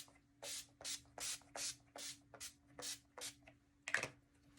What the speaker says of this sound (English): I'm using my Motives 10 Years Younger setting spray.